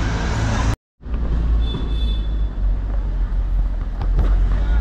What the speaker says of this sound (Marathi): तर आता आपण गाडी घेऊन निघालो आहे